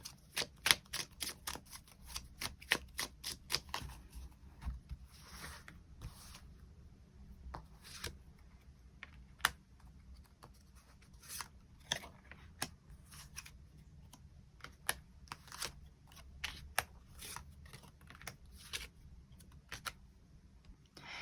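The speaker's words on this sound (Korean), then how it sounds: "추가 카드로 시기적으로 이 사람을 언제쯤 만나게 될지 추가 카드 뽑아보도록 하겠습니다" Tarot cards are flicked and drawn from a deck in a rapid burst of faint, close papery clicks, followed by sparse, irregular taps and small snaps over a quiet background.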